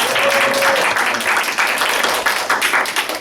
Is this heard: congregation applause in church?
yes